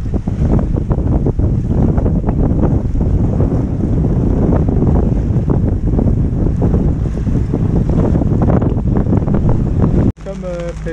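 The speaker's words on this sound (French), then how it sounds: "Comme prévu, le vent est monté là à 18 nœuds. Ça souffle bien." Strong wind of about 18 knots gusts across a boat rolling on choppy Mediterranean waves near a marina, a loud, continuous roar of buffeting and water noise that cuts out abruptly near the end.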